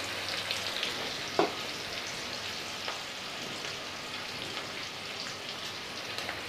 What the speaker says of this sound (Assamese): এইখিনি মই ইয়াতে অকণমান ভাজি ল'ম